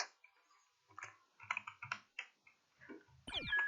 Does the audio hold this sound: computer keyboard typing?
yes